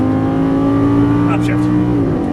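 Lamborghini Gallardo LP550-2 engine on throttle at a racing track, a loud steady droning growl heard from inside the car, holding pitch then dipping as throttle eases, with an instructor's voice talking over it.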